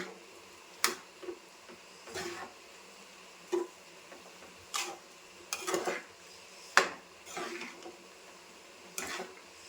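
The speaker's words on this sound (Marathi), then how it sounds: "आणि सगळं आता मिक्स करून घेते" Spoon stirring and mixing ingredients in a pan for a festival offering dish, with scattered scraping clinks of utensil on metal at irregular intervals, fairly faint and close, with no talk.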